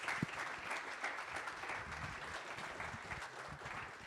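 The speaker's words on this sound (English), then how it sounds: "Let's give a big round of applause to our panelists" Steady applause from an audience honouring a panel after an interview-themed Q&A, dense clapping sustained throughout at moderate distance with no voices over it.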